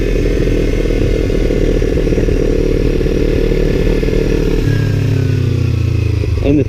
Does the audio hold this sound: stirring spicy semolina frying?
no